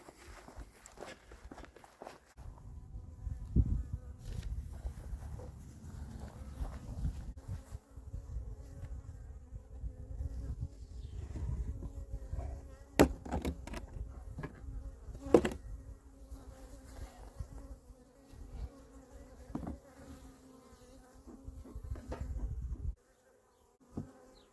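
Honeybees buzzing around a Flow Hive, a continuous low drone close by, mixed with footsteps and handling noises and a few sharp knocks.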